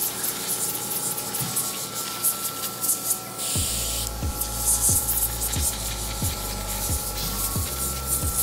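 An oxygen facial device sprays serum onto skin as a steady pressurized hiss, joined midway by a regular low rhythmic pulsing from the machine, close up with no talking.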